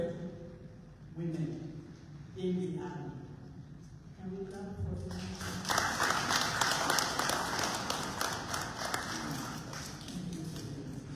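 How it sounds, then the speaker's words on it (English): An audience at a Sierra Leone army event honouring women recruits breaks into dense applause that swells midway and carries on steadily, with scattered voices beneath it. "Can we clap for them?"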